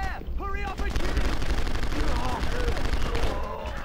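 Gunfire in The Punisher game on PC rattles loud and close throughout, dense repeated shots layered over game effects, with a voice speaking briefly near the start.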